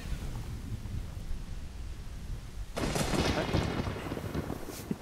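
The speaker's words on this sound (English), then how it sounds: "Oh, that's a lot of rain." Rain and thunder in Legend of Zelda: Ocarina of Time, a steady hiss of rainfall that suddenly swells into a louder, fuller downpour with a low rumble partway through, no voices.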